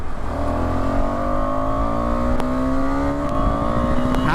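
A KTM 250 Adventure motorcycle engine revs under opened throttle, a loud, close, continuous drone whose pitch climbs steadily throughout.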